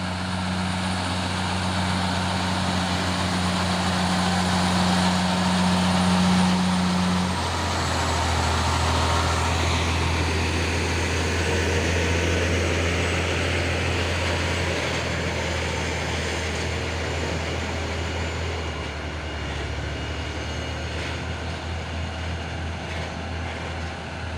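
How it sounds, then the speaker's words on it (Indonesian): A container-hauling trailer truck on an Indonesian road approaches from behind and passes, its steady low engine drone and tyre roar rising and swelling across the whole span, with no talk. "ada lagi trailer dari belakang"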